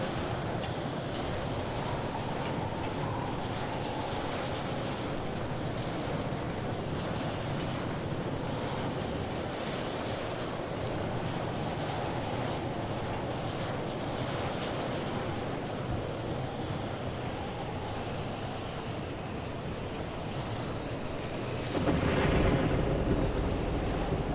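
A storm rolls through the Pacific Drive video game, with steady, loud wind roaring and rushing throughout and a heavier gust or rumble surging near the end.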